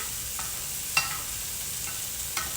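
Portobello mushroom slices cook in a pan with a steady, soft sizzle, and a few light clicks of stirring poke out near the start and end.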